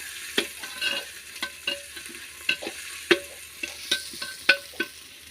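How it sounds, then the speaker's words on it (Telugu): Ginger garlic paste sizzles in a pan with browned onions while it is stirred, giving a run of sharp scraping strokes over a steady fry, close and fairly loud, with no talking. "ఉల్లిపాయలు అనమాట ఎర్రగైపోయి ఇప్పుడేమో మనం ఇది వేయాలి. మళ్ళీ ఇదనమాట వేయాలి. అల్లం వెల్లుల్లి పేస్ట్ వేయాలి ఫస్ట్."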